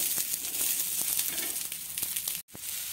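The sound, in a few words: green chickpeas roasting on a griddle over low flame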